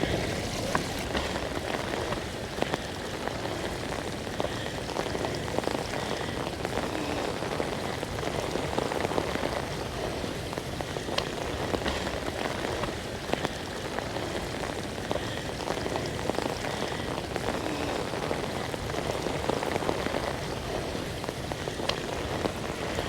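Steady rain pattering on a hard surface and draining toward a catch basin and dry well, a dense, continuous hiss of drops with no voices, constant in level throughout.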